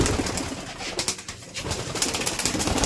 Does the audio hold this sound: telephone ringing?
no